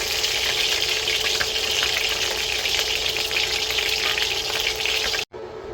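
Beef frying in oil in a pan, a loud, dense, continuous sizzle that holds steady close by, with no talking, and cuts off abruptly near the end.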